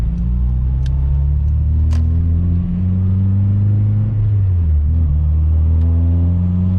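A Honda Civic with a K20 engine pulls steadily from inside the cabin, a deep continuous engine drone climbing in pitch, dropping at a gear change around midway, then rising again, with no speech.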